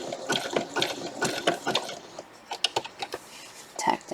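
Domestic sewing machine stitching lace onto a vintage Sunbonnet Sue quilt block, a close run of quick mechanical rattling bursts that stop and start with short pauses.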